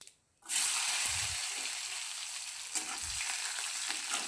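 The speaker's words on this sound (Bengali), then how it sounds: "কাজুটাকে হালকা একটু ভেজে নেব আগে" Cashews lightly frying in a pan, a steady close sizzle that starts abruptly after a short silence, with soft stirring scrapes breaking through now and then.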